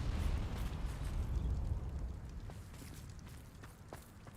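A Confringo spell explosion in the video game Hogwarts Legacy: a dense, rumbling burst that rolls on for about two seconds, then fades into a softer crackling tail with faint scattered pops.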